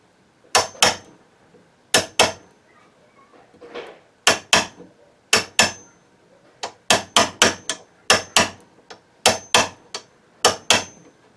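A hammer strikes a chisel, cutting a mortise for a lockset faceplate in a door edge by hand. The blows are sharp and close, mostly in quick pairs with short pauses between them, and nobody talks.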